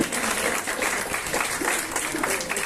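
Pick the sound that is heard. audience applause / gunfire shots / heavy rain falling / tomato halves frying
audience applause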